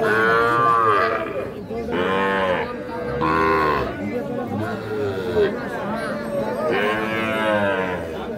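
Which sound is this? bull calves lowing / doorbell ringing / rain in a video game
bull calves lowing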